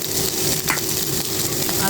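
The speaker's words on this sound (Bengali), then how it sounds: "এখন আমি চিংড়ি মাছটা দিয়ে দেবো" Shrimp fry with onions in a pan, giving a steady close sizzle with a brief scrape or clatter of a spatula partway through, heard on its own.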